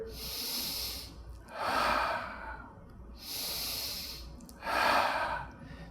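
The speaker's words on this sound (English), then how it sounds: "2 more breaths here." Slow, audible breaths during a children's chair yoga triangle pose: two full cycles of sharp nasal inhales followed by longer hissing exhales, close and fairly quiet.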